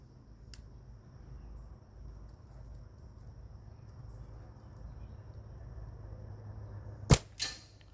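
A slingshot fired with White Lightning latex bands: a low, quiet background hum holds for several seconds, then a sharp crack is followed closely by a second smaller snap.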